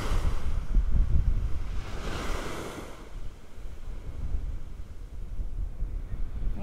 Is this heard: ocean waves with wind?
yes